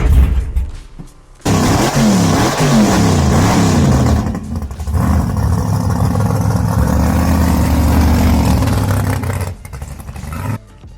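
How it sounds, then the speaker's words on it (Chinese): A 1965 Ford Mustang drag car with a 1400-horsepower engine cranks and fires, then revs hard in rising and falling bursts with mechanical clatter, loud and close, before cutting off. "那我先发动给你们看一下，第一个要按这个往上开，然后开那个油，就会听到一些声音。"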